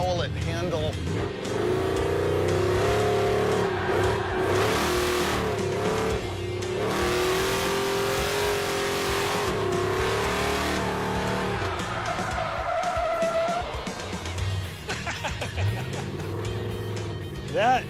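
A muscle truck revs hard and accelerates around a cone course, engine roaring up and down with tire squeal and skidding, fairly close, then easing off toward the end.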